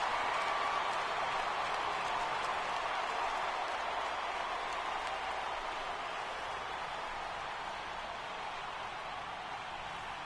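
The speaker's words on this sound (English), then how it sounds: "this stadium is rocking right now as they celebrate something they'll remember forever" Stadium crowd in MLB The Show roaring after a World Series-clinching final out, a dense, steady wall of cheering and applause at even loudness throughout, with no distinct voices standing out.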